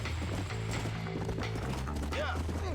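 Horse hooves clip-clop at a gallop in the video game Red Dead Redemption, steady and fairly close under game noise, with a brief whinny and a voice talking over it.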